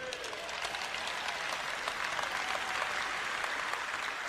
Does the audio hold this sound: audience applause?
yes